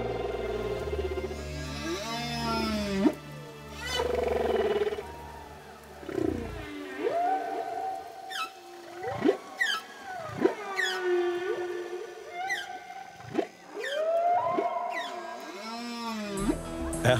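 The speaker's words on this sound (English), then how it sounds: "we're serenaded, their glorious whale song clearly audible" Whale song recorded underwater while swimming alongside whales: long rising and falling moans, whoops and sweeping cries in repeated phrases, loud and close, with brief gaps between calls and no talking.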